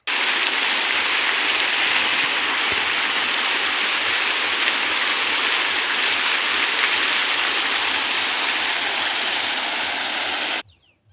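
Water gushes steadily from a 5 HP DC solar pump on a farm, a loud, continuous broadband rush that holds unbroken for about ten seconds and then cuts off abruptly.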